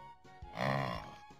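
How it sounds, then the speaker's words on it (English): A yak's grunt from a children's animal-learning app: one short, deep, throaty grunt rising and falling over about half a second, alone against a quiet background. "Yak."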